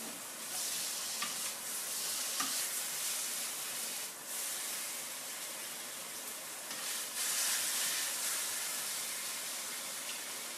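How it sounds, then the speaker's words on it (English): Filet steaks pan searing on their sides for medium rare, a steady loud sizzle and hiss running throughout with a few brief crackles and pops, no talking. "in order to get it up to medium rare when we're pan searing, we're going to grab our steaks and we're going to sit them on their sides"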